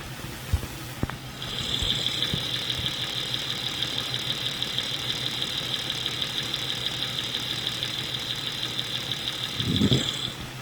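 A steady engine idle with a continuous high-pitched whine and fine rapid ticking from the upper valve train or valve cover stud, close up, with a brief low thump near the end.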